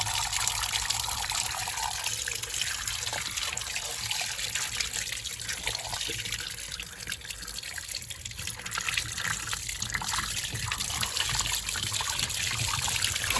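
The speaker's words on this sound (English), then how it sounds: "you can see it draining down. Quite a lot of water in there." Water drains from a Bosch WFP3300 washing machine in a continuous trickling gurgle, a soft steady flow close by with no talking.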